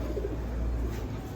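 Pigeons, mostly foreign breeds, in a racing loft in Chittagong, Bangladesh, give low, throaty cooing that rolls on steadily over a dense background hum.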